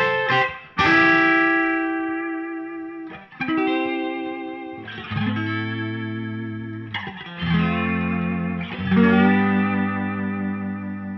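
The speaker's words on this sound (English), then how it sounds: "it's got a real good balance between those kind of nice twangy sounds on the bridge." Twangy electric guitar from a Dale Wilson Masterbuilt Stratocaster played on the bridge pickup, several ringing chords and phrases separated by brief gaps, bright and close with some reverb, no talking.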